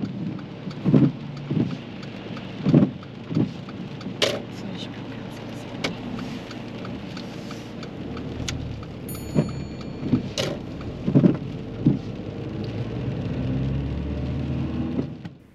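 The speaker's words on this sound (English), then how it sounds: "By this point, it had been raining for quite some time" Steady rain falls around a car on a driving lesson near roads toward Heathrow, a continuous wet hiss with scattered drops and low rumbles, plus sharp clicks and a few brief spoken exchanges inside the car.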